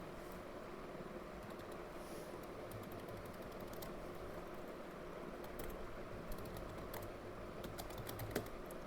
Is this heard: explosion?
no